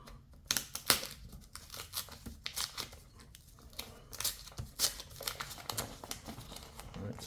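Cardboard and plastic packaging on a Samsung Galaxy Tab S9 box is torn and crinkled in a series of quick, close rips and rustles. The sharp bursts are uneven and fairly quiet.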